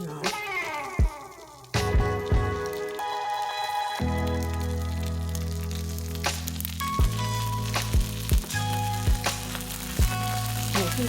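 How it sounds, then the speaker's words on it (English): Turkey bacon slices going onto a hot, extra-large electric griddle, setting off a steady loud sizzle with scattered sharp pops and crackles, alone without talk. "now I'm going to add my slices of turkey bacon on."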